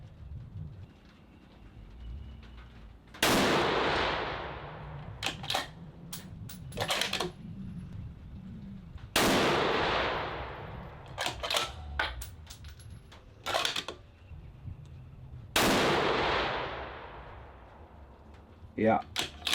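Rifle fired with a muzzle brake or silencer, Federal and Norma ammunition, on an outdoor range: three loud sharp shots spaced several seconds apart, each trailing a long echo, with fainter clicks and handling noises between them.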